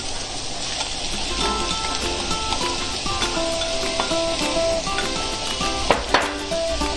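Three medium onions, finely chopped, dropped into hot oil in a pan, hissing in a dense continuous sizzle with light clinks of a utensil against the pan.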